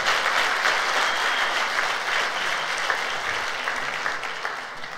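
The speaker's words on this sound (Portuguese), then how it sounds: "Então dá um aplauso aí ao Senhor." Congregation at a Sunday church service applauding, a steady, even wash of many hands clapping at moderate distance that fades slightly toward the end, with no voices standing out.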